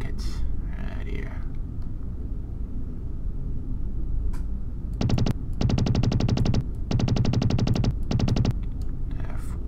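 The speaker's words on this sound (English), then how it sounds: "Air rockets, right here." Air rockets launch in Battlezone II, firing in rapid rattling volleys with several sustained bursts in the second half over a steady low engine rumble, with a voice murmuring early on.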